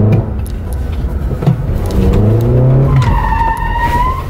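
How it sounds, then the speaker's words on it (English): A car spins a donut at the New York auto show, its engine roaring loud and steady while the tires skid and squeal, the squeal climbing in pitch toward the end. "All right, ready for a donut?"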